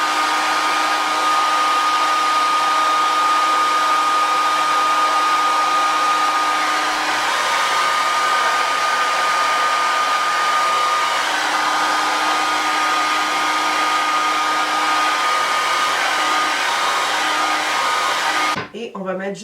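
A handheld hair dryer runs steadily at close range for about eighteen seconds while hair is dried after a hair installation, a constant loud whoosh with a high whine that cuts off abruptly at the end.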